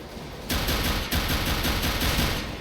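Sustained gunfire from a duel in the game CS:GO starts after a brief quiet moment, a dense, loud stream of rapid shots with a short break near the middle before the firing resumes.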